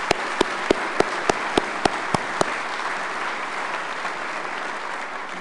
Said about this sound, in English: ask you to give a round of applause for the people who've done so much to put together a great event